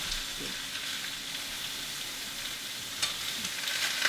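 Pork chops browning in a hot pan give off a steady, fairly faint crackling sizzle with scattered pops and spits, continuous throughout and free of talk.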